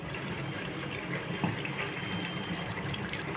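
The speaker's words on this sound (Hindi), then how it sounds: "अब इसमें पानी डाल दूंगी" Water pours steadily into a pot of beef kofta curry in a continuous, close splashing stream that fills the whole moment.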